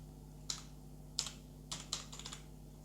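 Keys clack on a computer keyboard in a few quiet, separate taps and then a quicker short run, close but faint over a low steady hum.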